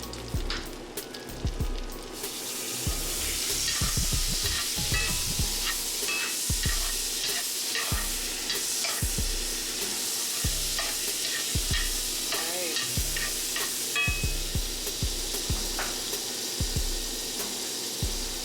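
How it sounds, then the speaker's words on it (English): Seasoned steak searing in a cast iron skillet with browning garlic cloves: a loud, continuous sizzle and hiss, close up, with repeated rhythmic scraping or stirring strokes throughout. "I'm going to put the seasoned side down first in the cast iron skillet"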